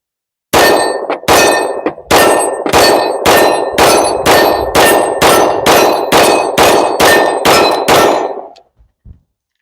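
A Beretta 92 9mm pistol fires about fourteen rounds in a steady rapid string at a steel target roughly 15 yards away, each shot a sharp crack followed by a ringing metallic clang, then a couple of faint trailing clinks.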